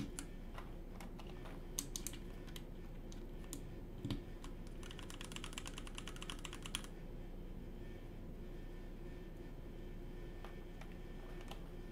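Steady typing on a custom TKL keyboard fitted with Milky Gateron Yellow linear switches, with a continuous run of soft, close keystrokes and a denser burst partway through, heard alone.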